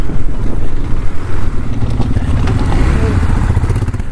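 Motorcycles rumble at a large water crossing between Agham and Shyok villages in Ladakh, a steady engine drone close by mixed with wind buffeting, with no talk.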